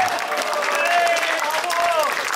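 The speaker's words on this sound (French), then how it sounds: "elle nous rejoint sur la troisième marche du podium sous un tonnerre d'applaudissements" Spectators at a cycling charity podium ceremony in La Rochelle applaud as a rider steps onto the third step, steady close crowd clapping with faint voices and a tonal whine beneath.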